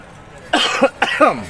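A man clears his throat and coughs twice in quick succession, close and fairly loud, during a commentary on a sash-and-number contest.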